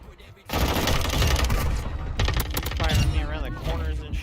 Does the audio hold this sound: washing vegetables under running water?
no